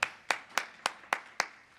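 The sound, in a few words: golf clap, light polite clapping from audience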